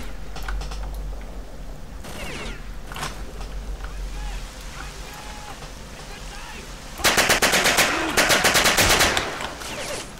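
Automatic gunfire from the S.T.A.L.K.E.R. New Arsenal 5.1 mod, loud rapid bursts dominating the last few seconds after a stretch of softer ambient game noise, with scattered shots and a voice speaking earlier.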